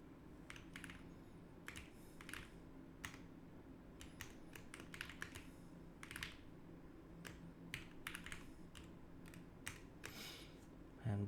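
Computer keyboard typing while entering an SQL query for team scores, a steady run of close, quiet key clicks with irregular rhythm over faint room hum.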